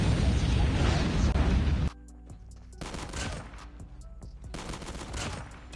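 Loud, dense gunfire from Call of Duty Mobile rattles nonstop, then cuts to sparser sharp shotgun blasts and pops spaced across a few seconds, close and punchy over a low game hum.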